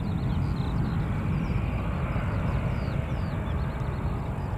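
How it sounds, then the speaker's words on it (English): Ryanair airliner departing at Newcastle Airport, a steady broad jet engine roar heard from a distance, constant and unbroken throughout. "So it looks like the Ryanair is going to be heading out first, and then it'll be the Emirates after."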